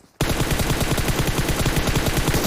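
Rapid video game machine gun fire starts abruptly after a brief quiet moment, then continues as a loud, steady burst of closely spaced shots with no letup to the end.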